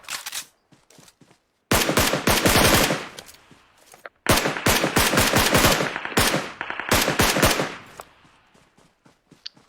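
Rapid bursts of gunfire from the mobile battle-royale game PUBG Mobile, loud and close, with short silent gaps between volleys and no talking.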